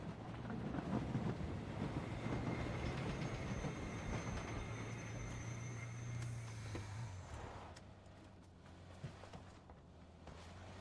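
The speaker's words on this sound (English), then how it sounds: "Should we take the train?" Train rumbling past in a video game, a long continuous mechanical roar with a steady low drone that gradually eases off, with no voices over it.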